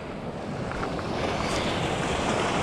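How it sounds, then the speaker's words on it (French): Strong wind buffets the microphone on wet rocks by the sea during shore fishing, with steady surf washing beneath it and a continuous loud roar throughout, no voices. "Il y a plus de vent ici, on était à l'abri tout à l'heure"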